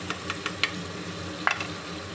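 Ginger garlic paste added to a pan for chole sabzi, giving a faint sizzle with a few soft stirring clicks and taps, quiet and brief, no talking.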